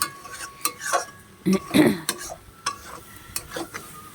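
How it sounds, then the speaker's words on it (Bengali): Stirring a mixed vegetable curry in a pan, with a spoon scraping and clinking against the metal at irregular intervals and a faint sizzle underneath. The sound is close and moderately loud, with no voices. "এবার এটা ভালো করে নাড়তে হবে।"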